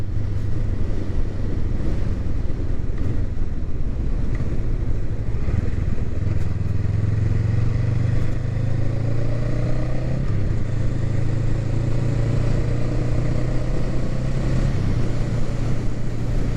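A 2023 Honda Rebel 500 SE rides with a steady engine and exhaust drone that rises and shifts through gear changes, heavily buffeted by wind noise, no talking.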